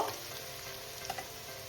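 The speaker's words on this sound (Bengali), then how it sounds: "এবার এটা একটু ভেজে নেব।" Garlic and other ingredients for arhar dal with vegetables fry in a pan, a quiet steady sizzle with a couple of faint stirring ticks.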